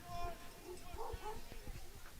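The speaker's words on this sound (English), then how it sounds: "Oh, and I think we have a dog altercation here off to our left." Dogs squabbling at the sideline of an outdoor men's soccer championship match, with yips, whimpers and short barks in the distance beneath a commentator's voice.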